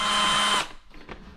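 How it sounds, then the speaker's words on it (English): Power drill boring holes in a garage during a mini bike frame and fork build, a steady high whine for half a second then spinning down and stopping, followed by faint handling sounds. "Just got done drilling some holes."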